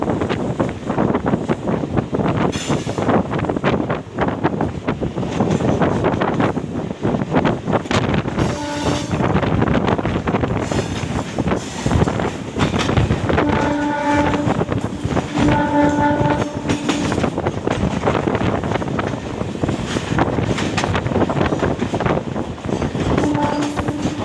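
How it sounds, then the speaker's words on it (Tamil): A goods train rumbles past nearby in darkness near Park Town and Egmore, Chennai, with continuous rolling clatter and squeal, and a horn sounds several times in the middle. "சுற்றிலும் இருளாக இருப்பதால் சரக்கு வண்டி செல்வது கண்ணுக்கு தெரியவில்லை. ஆனால் சத்தம் மட்டும் கேட்கிறது."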